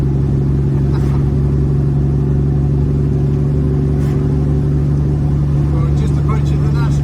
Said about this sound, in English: the sound of the Cummins going down the road